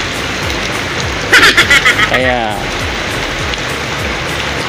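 Steady rain falls in a continuous broadband hiss while someone speaks briefly over it.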